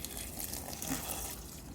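Water pours steadily into a bucket packed with weeds and leaves for homemade garden fertiliser, a close, continuous splashing and gurgling rush with no talk.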